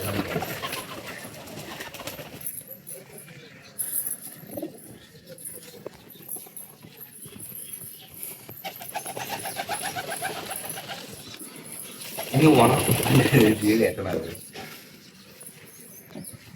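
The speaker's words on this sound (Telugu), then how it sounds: "మన దగ్గర నెమరీ పావురాలు ఈ రెండే ఉంటాయి" Palti tumbler pigeons brought from Nellore coo softly and intermittently, close by, with a louder burst of flapping or rustling near the end and little talk.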